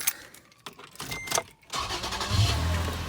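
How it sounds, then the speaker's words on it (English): A 2008 Toyota FJ Cruiser engine cranks and catches, turning over into a steady running rumble after some brief rustling and clicks. "So whenever I get back in and start it up"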